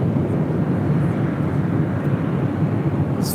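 Airliner taking off from a runway at LAX, a broad, steady roar of jet engines and rushing air, loud and continuous for the whole stretch with no talk over it.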